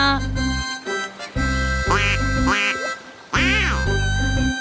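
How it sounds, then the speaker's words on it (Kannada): A cartoon mallard duck quacks in loud, exaggerated bursts, several nasal calls in a row with short pauses, over a bright musical backing. "ಮಲಾಡ್ ಡಕ್ನ ನೋಡಿ ಖುಷಿ ಪಟ್ರು"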